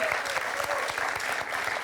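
Sustained, dense clapping from a studio audience cheering a finalist at a TV quiz show final, steady and close, with a faint voice underneath.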